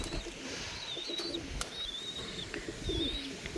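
Pigeons coo softly in a loft, with several low, burbling calls and faint chirps. They sit over steady background noise and no one talks.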